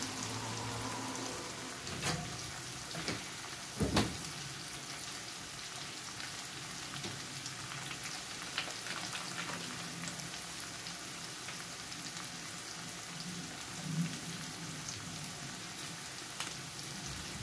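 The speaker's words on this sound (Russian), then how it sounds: "Пока тут жарится у меня" Chanterelle mushrooms fry in a pan for a home-cooked mushroom roast, giving a steady soft crackling sizzle throughout, with a few louder clicks and knocks of the pan near the start.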